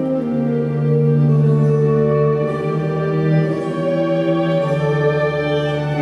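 A sustained suspension chord in metal music, held as a rich, thick harmonic wash for several seconds, with subtle shifts in the voicing and no speech over it.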